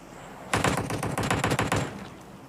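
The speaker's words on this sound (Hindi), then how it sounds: "तभी आता है AKM का गंदा वाला फायर।" An AKM rifle fires in a video game, one rapid full-auto burst of about a dozen sharp shots lasting just over a second, loud and close, with no talk.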